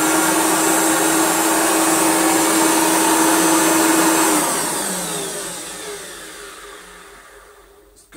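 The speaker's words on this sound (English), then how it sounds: "It's got that sort of higher pitched whine that these larger motors have." A refurbished Hoover Turbomaster U5078 vacuum cleaner runs with a loud, steady, high-pitched motor whine, then switches off and winds down over several seconds into near silence.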